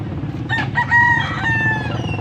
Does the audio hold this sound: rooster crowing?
yes